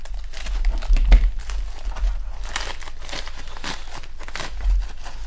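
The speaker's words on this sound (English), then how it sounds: "let's go ahead and use these scissors to cut it open." Packaging being cut open with scissors, a run of close crinkling, crackling and tearing sounds with a few sharper snips and rustles and no voices.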